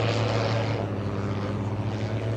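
A propeller aerobatic airplane drones steadily during a snap roll at the EAA AirVenture 2025 IAC aerobatic showcase, a loud continuous engine roar with slight swells throughout.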